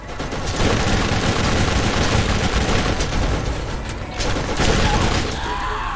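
Gunfire in the video game Borderlands, dense rapid shots and mechanical clatter running continuously and loud through the whole stretch, with occasional heavier bursts and no clear talk.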